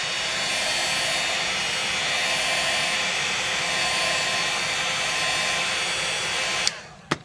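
Hot air from a heat gun or hair-dryer-style blower warming the screen of a Samsung Galaxy Tab 4 10.1 during digitizer replacement: a steady, loud broadband whoosh that stops abruptly near the end, followed by two brief clicks.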